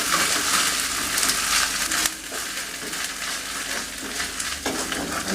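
Ginger garlic paste sizzles and crackles steadily in a hot pan for a potato curry, a loud, close, continuous frying hiss with a spoon scraping and stirring through it and no voices.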